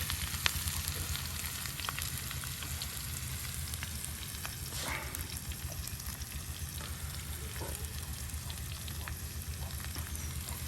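Bitter gourd fries with garlic in a pan, giving a steady, even sizzle throughout, with faint occasional stirring taps under the constant crackle.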